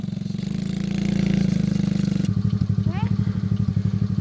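A motorcycle engine on a safari tour road runs with a rough chugging rhythm, revving up and then settling into a pulsing idle-like throb, close and loud, with a short whistle partway through.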